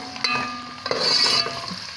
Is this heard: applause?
no